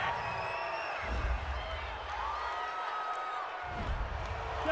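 A stadium crowd at a Minnesota Vikings versus Los Angeles Rams NFL game reacts to a penalty call with a broad, distant roar of voices and whoops that swells and fades in waves.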